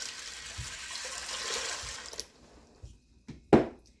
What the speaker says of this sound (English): And then I have 6 cups of water I'm going to pour directly over the top.